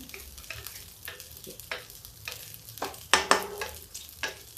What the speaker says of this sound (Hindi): तो भी भून देते हैं, फिर जल जाएगा चावल।